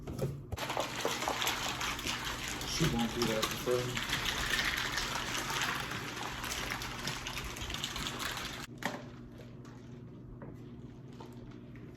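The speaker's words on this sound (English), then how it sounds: "And then you just shake it up." A drink mix shaken with 12 to 16 ounces of cold water makes a steady, close sloshing and rushing of liquid for about nine seconds, then stops abruptly, with a person talking over it.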